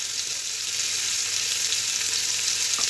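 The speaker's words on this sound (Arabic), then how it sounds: "اوطي النار عليها كده كده تاخد تشويحه زي تشويحه الملوخيه" Garlic sautéing in a hot pan as the base for lentil soup gives a steady, close hiss and crackle of frying, unbroken and without talk.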